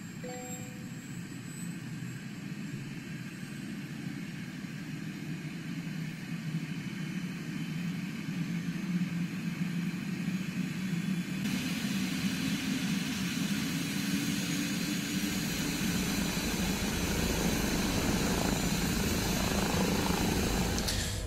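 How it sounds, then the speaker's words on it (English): Airbus H160 helicopter engine 1 starting up in Microsoft Flight Simulator, a steady broadband turbine whine and rumble that grows louder partway through and holds at a constant idle, with no talk. "let's fire up engine 1"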